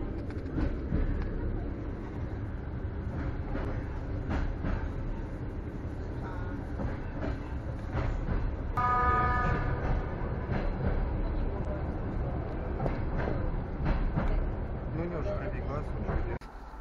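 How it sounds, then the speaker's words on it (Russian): A train rumbles steadily past nearby with rhythmic clacking of wheels on rails, a brief squeal midway, and a voice talking over the noise. "Собственно, вот и уехал наш поезд."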